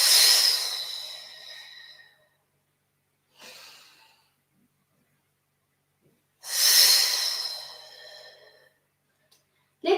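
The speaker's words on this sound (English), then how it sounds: "Audible exhale as you come down." Slow, breathy exhales from a person during a yoga stretch for stress relief, two long airy sighs separated by silence, with a softer, shorter breath between them and a faint intake at the very end.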